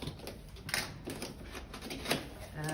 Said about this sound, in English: so I'm just gonna cut open the seal